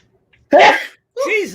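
One loud, sharp sneeze bursts out close to the microphone after a moment of quiet, and a person's voice follows right after.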